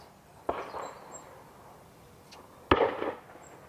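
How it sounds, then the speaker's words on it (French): Two sharp cracks from a 1959 Eureka Diane air rifle firing lead pellets, spaced about two seconds apart, each a quick snap followed by a short rattling tail against faint background noise. "Tu vois, moi, je tire la carabine à plomb."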